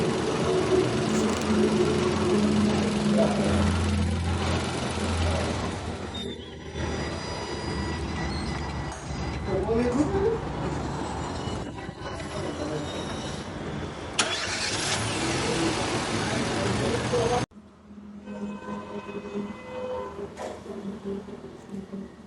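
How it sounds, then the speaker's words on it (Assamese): A Nissan Micra that had broken down on the road runs after finally starting, its engine giving a steady, loud drone with an odd rattling note, then dropping lower near the end. "ফাইনেলি এইপিনে আমাৰ গাড়ী ষ্টাৰ্ট হৈ গ'ল তো পিঠনা চাউণ্ড আহি আছে দেখিছে গাড়ীৰ পৰা"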